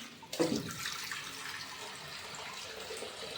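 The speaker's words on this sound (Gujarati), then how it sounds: "પાણી ભરવાનું કામ ચાલુ છે. પાણી ભરીએ છીએ" Water runs steadily into clay pots, a continuous splashing gush that starts abruptly and keeps a fairly even level.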